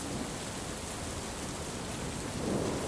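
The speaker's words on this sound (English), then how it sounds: "watching the rain ruin their perfect day" Steady rain pours outside a window on a gloomy day, a dense, even hiss that holds at one level throughout and swells slightly near the end, with no voices.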